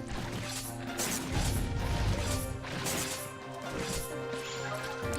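Impact sounds of a character being smashed in the face by an enemy in the action RPG Secrets of Grindea, heard as a dense wash of game effects and music with heavy thumping hits throughout.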